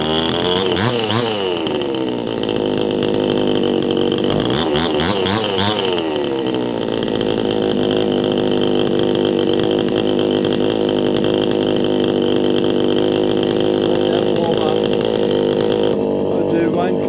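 A 62cc Chinese chainsaw screams at full throttle close by, loud and sustained, with a couple of quick revving swells early on before it holds a steady high-pitched whine.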